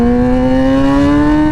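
A loud, raw straight-piped sport motorcycle engine holds a steady, slightly rising drone, close by and harsh-toned, with no other sounds.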